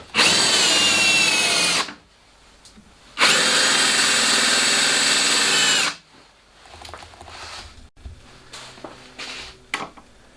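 A power drill boring countersunk holes in wood for a sled jig, two loud sustained whining runs of about two to three seconds each, separated by a pause, followed by quieter clunks and handling noises.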